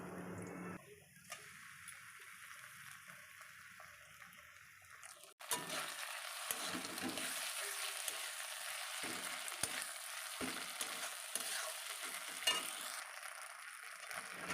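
Onions fry in a pan with ginger garlic paste as part of a home-style chicken curry. Quiet sizzling starts faint, then a louder, steady crackle with occasional clinks follows the added paste.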